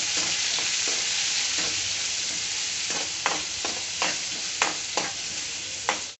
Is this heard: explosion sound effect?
no